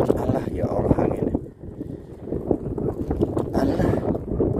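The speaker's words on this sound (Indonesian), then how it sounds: "Allah gak sampai anginnya kencang." Strong gusting wind buffets a small fishing boat heading out to a quiet island spot at sea, a steady roaring rush with water sloshing beneath, loud and continuous throughout.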